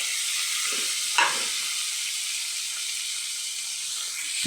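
Broiler chicken pieces frying in oil with onion and garlic, a steady bright sizzle throughout with a brief stir or scrape partway through, close and even.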